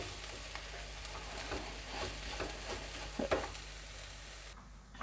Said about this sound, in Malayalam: ഗ്യാസ് ഓഫ് ചെയ്താലും കുറച്ച് നേരം ഒന്നിങ്ങനെ ഇളക്കിക്കൊണ്ടിരിക്കണം.